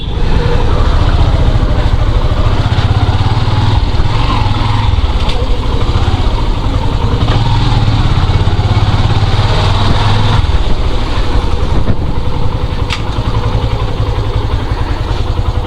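A motorcycle engine runs loud and close at a steady, even rumble along a narrow road, its pitch dipping slightly now and then.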